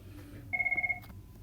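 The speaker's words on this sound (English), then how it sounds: "the phone rang and got interrupted" A telephone rings once in a short electronic trill of rapid pulses, clear and fairly close over a quiet room hum, then cuts off abruptly.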